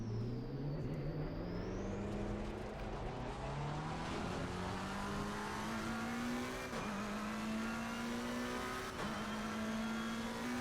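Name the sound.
McLaren 720S driving at Mount Panorama in racing video game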